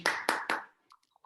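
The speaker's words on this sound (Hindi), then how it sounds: "मैम के लिए जोड़ा ताली" A few people at a training session clap for a woman: three quick, close claps in a row, then quiet apart from a couple of faint small taps.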